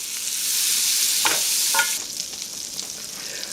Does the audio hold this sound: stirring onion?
yes